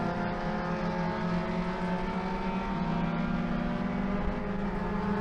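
Honda Fit B-Spec race car at the start of the 2025 Runoffs, its engine droning steadily and loud from inside the cockpit with a sustained harmonic whine, no talking.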